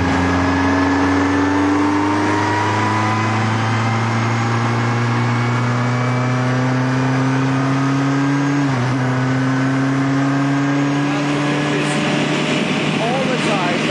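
Onboard engine of a Formula 1 car at Donington Park, a loud steady droning tone held at near-constant pitch with a brief dip midway, wind and mechanical roar throughout.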